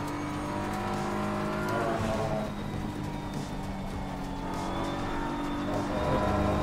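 Race car engine in the Assetto Corsa Competizione racing game, a steady loud drone with shifting revs and gear-change sweeps, running continuously close up with no talk over it.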